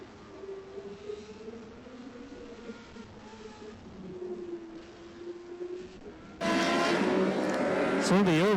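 Race cars on the front stretch at KAM Raceway, engines droning under a commentator's voice, then a loud close pass that swells into a roaring, revving rush near the end.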